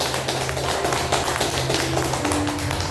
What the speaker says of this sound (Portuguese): dê uma forte salva de palmas para o nosso Deus